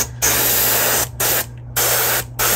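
Airbrush spray paint hisses onto a sunfish swimbait in three steady bursts separated by short pauses, close and loud over a low background hum.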